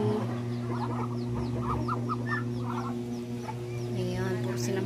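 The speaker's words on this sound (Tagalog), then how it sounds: "Mga free range na mga chicken." Free-range chickens cluck in a rural village yard with a run of short, repeated clucks over a steady droning hum, moderately near and without speech.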